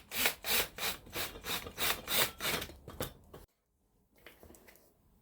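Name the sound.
screwing screws into office chair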